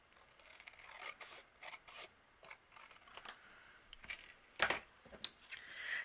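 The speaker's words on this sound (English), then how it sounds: "And then the excess that's overhanging, I'm going to trim off." Scissors trimming away excess paper overhanging the edge of a handmade snowman card, heard as faint, close rasping snips and rustles in a quiet room, spaced irregularly with a few louder cuts near the end.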